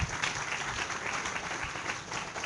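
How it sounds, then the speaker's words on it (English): An audience in a lecture hall claps steadily for a couple of seconds, a moderate round of applause with no voices over it. "So everybody, let's give a round of applause for Dr. Chen."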